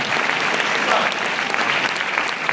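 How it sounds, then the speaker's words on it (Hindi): Audience at a network marketing event claps loudly and steadily, a thick continuous wash of applause from a large crowd with faint voices mixed in underneath. "ताली बजा रहे भाई साहब सबके लिए"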